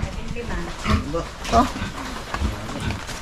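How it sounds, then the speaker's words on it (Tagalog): Pigs kept as pets on a farm grunt and oink in short bursts over a noisy pen, with voices talking nearby. "kanilang alagang baboy"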